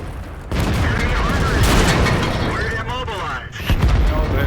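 A high-explosive shell slams into a tank in World of Tanks, a sudden loud burst with shattering debris and rumble that swells and then tails off before a second impact near the end.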